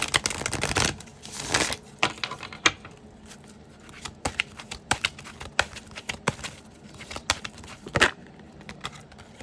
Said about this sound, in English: I'm going to get more cards for you guys just to see what else shows up